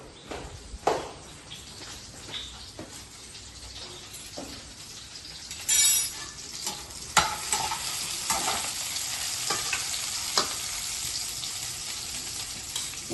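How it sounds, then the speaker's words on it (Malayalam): Grated coconut roasts in a pan for a chicken curry, giving a soft steady sizzle with intermittent scraping stirs from a spoon, close and fairly quiet, with no talking. "തേങ്ങ ശകലം വറുക്കും."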